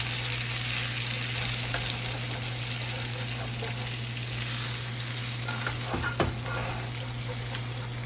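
A NY strip steak sears in a cast iron pan, giving a steady, loud, continuous sizzle and frying crackle throughout, with a low hum beneath and a brief clatter near the end.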